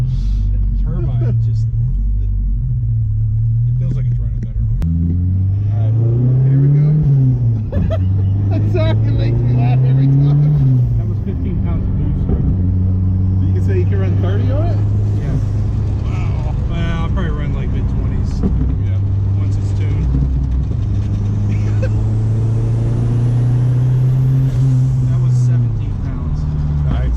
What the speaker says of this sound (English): I love that sound though. That blow off valve, that's awesome.